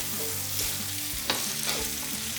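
Chicken mince sizzles in a pan over medium heat as dry spices are stirred in, a soft steady frying hiss broken by a few scraping spoon strokes, close and quiet.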